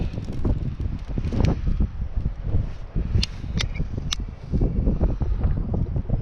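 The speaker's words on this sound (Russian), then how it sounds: "Ух, ветрюган какой!" Strong wind gusting over a river in the Komi Republic during grayling fishing, loud buffeting rumbles across the microphone that rise and fall in uneven bursts, with a few faint knocks.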